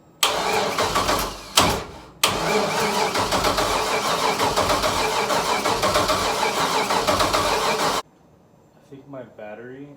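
An LS V8 swapped into a Scion FR-S cranks and fires, a loud, dense engine roar that runs steadily for about eight seconds with brief dropouts near the start, then cuts off abruptly, leaving a voice speaking.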